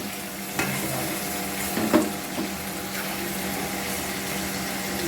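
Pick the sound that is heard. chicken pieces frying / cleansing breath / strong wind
chicken pieces frying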